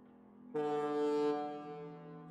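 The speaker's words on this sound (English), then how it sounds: "I better find my way to that foghorn stat." Foghorn in the horror video game Perception, a deep, sustained horn blast that swells in after a faint low hum, holds strongly, then slowly fades.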